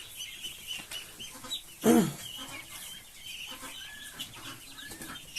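Chickens cluck softly and intermittently in the background on a farm in Poland, with one louder, sharper squawk up close partway through.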